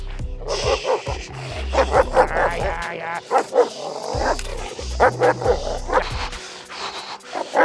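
A protection-training dog barks on command at a fence line, delivering repeated sharp, loud barks in uneven bursts with short whines between, close up, with a handler's voice briefly heard.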